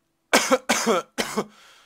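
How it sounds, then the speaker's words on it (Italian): A person coughs three times in quick succession, harsh and close, each burst followed by a short pause, with a faint breathy tail at the end. "Ma sta tosse fastidiosa, è proprio una tosse di merda."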